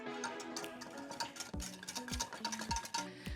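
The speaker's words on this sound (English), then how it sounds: "Give this a little whisk." A whisk stirs buttermilk with seafood seasoning and chipotle powder in a bowl, quick rhythmic tinkling strokes with a few duller knocks against the bowl, close and quiet, no one talking.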